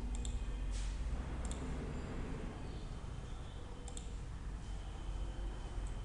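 Scattered, light clicks of a computer keyboard and mouse at a desk, quiet and sparse over a low background hum, with no one speaking.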